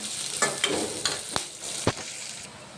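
Green chillies, dal and curry leaves sizzle in hot oil for poha, a steady frying hiss broken by several sharp clinks and scrapes of stirring.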